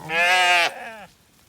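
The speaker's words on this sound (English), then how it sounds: "Here, sheep, sheep, sheep, sheep, sheep." A sheep in a wet field gives one loud, close bleat that lasts about a second, then trails off into a quieter wavering tail.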